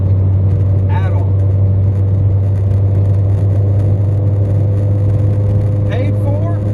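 An old $500 car's engine runs while driving, giving a steady low droning hum with road rumble that stays constant throughout, with a couple of faint brief chirps.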